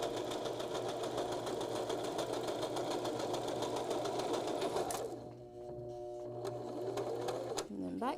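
A sewing machine stitching a small knot bag, fast rhythmic needle chatter close up for several seconds, then a pause with faint clicks and a short burst of back stitching.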